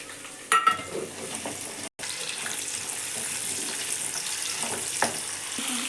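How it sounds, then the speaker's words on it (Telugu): Okra frying with curry leaves and onions on a sim flame, a continuous close sizzle broken by a brief stirring clatter early on and a short gap in the sound. "సిమ్లో ఉంచి ఫ్రై చేస్తూ ఉండండి"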